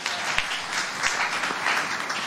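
A church congregation at a Pentecost service applauds and cheers, a dense, steady wash of clapping from many hands filling the room, with a few faint voices mixed in.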